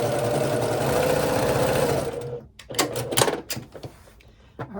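A sewing machine stitches herringbone quilt pieces together, humming fast and steady for about two seconds, then stops, followed by clicks and fabric handling nearby.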